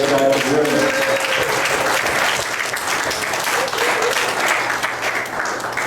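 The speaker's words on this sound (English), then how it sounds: "Those are your headliners. Give them a nice round of applause." A comedy-show audience applauds its headlining comedians, a dense, sustained wash of clapping at close range, with a voice or two briefly audible in the opening moment.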